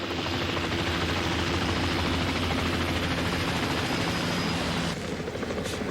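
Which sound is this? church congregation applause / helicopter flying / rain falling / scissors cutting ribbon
helicopter flying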